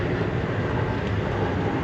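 An Amtrak passenger train runs on rails, heard from inside as a steady, dense low rumble and rolling noise with no distinct clicks.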